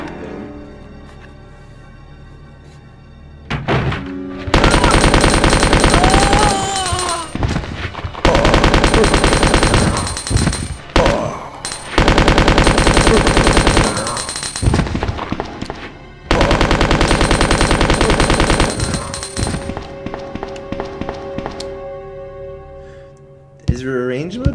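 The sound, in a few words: machine gun firing in Resident Evil Zero video game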